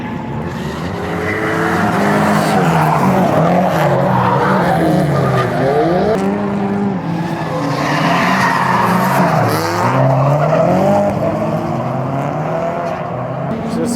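A Nissan Laurel drifts at Mobara Circuit, its engine roaring and tires squealing in long rising and falling sweeps, loud and sustained throughout the clip.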